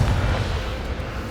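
A Confringo spell blast in Hogwarts Legacy booms as a dense, loud burst that rolls on in a rumbling wash for over a second.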